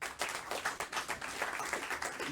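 Comedy club audience bursts into applause, a dense, steady patter of many hands clapping for a couple of seconds with no voices on top.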